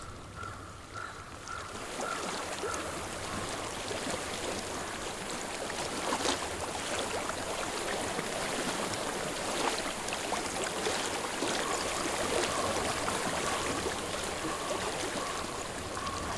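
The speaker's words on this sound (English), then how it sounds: "I hear water." A stream flows in the video game Hellblade: Senua's Sacrifice, a steady, faint rushing of water that continues evenly throughout with no voices.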